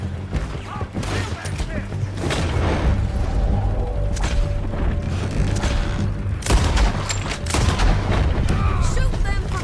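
Gunfire in a Red Dead Redemption 2 shootout during a wagon chase, with dense bursts of shots and booms running throughout over rumbling movement and a shouted voice.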